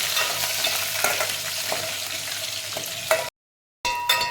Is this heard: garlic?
yes